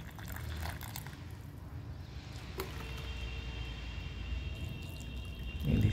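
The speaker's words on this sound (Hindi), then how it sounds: "अभी तो हम इसमें अच्छे से पानी देंगे पूरा भर के, नीचे तक चला जाए जिसमें" Water poured in a thin stream into the soil of a freshly potted snake plant, giving a steady, soft liquid trickle and soak with no talking.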